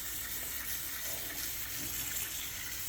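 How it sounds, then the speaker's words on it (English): Tap water runs steadily into a strainer of collard greens, a continuous close hiss and splash with no break and no talking. "We'll just rinse the greens off"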